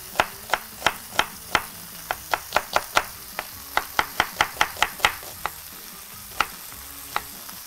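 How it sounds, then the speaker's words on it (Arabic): Onion being sliced with a knife on a cutting board for caramelized onion in chicken mushroom soup: a rapid, regular series of crisp close chops, about twenty sharp knocks in quick rhythm with brief pauses. "وهنقطعه شرايح"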